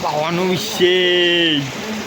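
Steady hiss of falling rain, with a voice speaking over it in long drawn-out tones.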